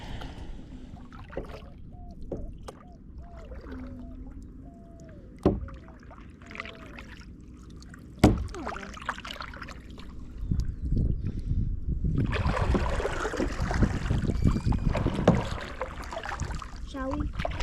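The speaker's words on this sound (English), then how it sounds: "There is a kayak." Kayak or canoe paddle strokes dipping into water near Turtle Island, with sporadic splashes and sharp knocks against the hull, building into steadier, louder watery rushing toward the end; quiet talk surfaces now and then.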